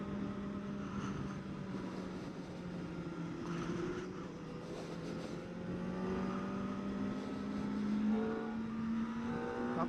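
Kawasaki ZX-4RR 2024 motorcycle engine revving and pulling up through the range in a steady, loud drone with rising pitch, heard up close and continuously without any voices.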